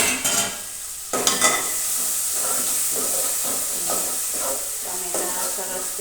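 Potato and pea curry cooking in oil in a pan, stirred with a few scraping strokes near the start, then left under a steady close sizzle and hiss.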